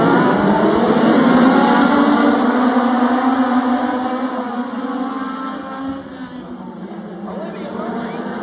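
Race cars on the Wake County Speedway oval roar under green-flag acceleration with four laps left, a loud dense engine drone that fades slightly as the pack moves away, with a commentator talking over it.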